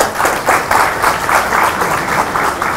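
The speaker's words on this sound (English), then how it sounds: "let us have a round of applause for JETRO's commander." An audience at a Japan-Bangladesh networking session gives a round of applause, with a loud, dense wash of clapping that carries steadily throughout.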